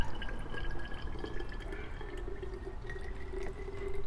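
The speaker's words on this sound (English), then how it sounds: "Then fill it up with water about an inch away from the top." Water is poured steadily to fill a cup or container, a continuous trickling and splashing stream with dripping tones running for several seconds, close by and fairly quiet.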